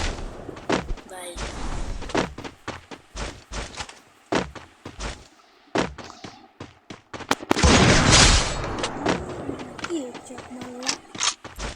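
Gunfire in a fast-paced shooting video game rings out as repeated sharp shots, some in quick bursts and a dense volley midway, mixed with loud, excited talk from players throughout.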